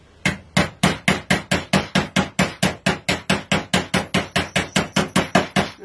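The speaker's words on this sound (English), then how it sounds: "Start pushing it together with a hammer first." A hammer pounds steadily while a craft lanyard is pushed together, about two dozen sharp, evenly spaced blows in under six seconds. Each strike is loud and close and dies away quickly before the next.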